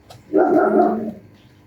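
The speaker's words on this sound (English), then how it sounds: "I'm sorry for my dog." A dog in a home gives a single loud, full-throated bark or drawn-out woof lasting nearly a second, with quiet room tone before and after.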